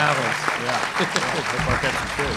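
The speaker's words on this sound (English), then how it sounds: "let's give all our panelists a round of applause" Audience applause for the panelists at a Fair Vote town hall in Haywood County, NC, a steady patter of clapping held for a couple of seconds with talk running over it.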